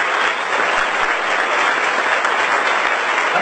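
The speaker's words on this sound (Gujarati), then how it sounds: "અહીંયા આવ્યું જોરદાર તાળીઓ સાથે" A seminar audience breaks into loud, sustained applause, dense clapping from a large crowd filling the room steadily with no pause.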